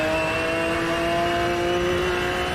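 A race car engine accelerates in Automobilista 2, a steady loud whining drone with strong tonal harmonics that holds evenly with no talk over it.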